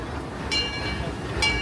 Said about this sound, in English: seeing the train being tested out in Bayou country